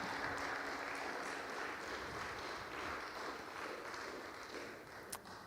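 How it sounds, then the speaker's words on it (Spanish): A church congregation gives the Lord a loud round of applause during a worship service, steady dense clapping throughout with a sharp tap near the end. "Dale un fuerte aplauso al Señor"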